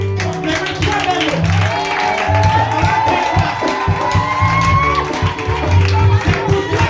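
A church congregation at a worship gathering in Bingerville claps and cheers in a dense, continuous roar, with rhythmic clapping, shouts and music mixed together throughout.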